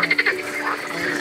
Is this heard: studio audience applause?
no